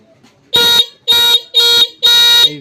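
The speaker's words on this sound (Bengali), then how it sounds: "চেক করে এবারে হর্নটা দেখি বাজাও" A repaired e-rickshaw (toto) horn being tested gives four loud, close, steady honks of similar length with short gaps between them.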